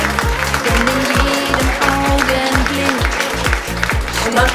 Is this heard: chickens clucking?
no